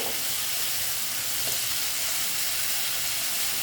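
Moong dal kalia masala sautés in a pan, giving a steady, close, dense sizzle that fills the whole stretch with no voices over it.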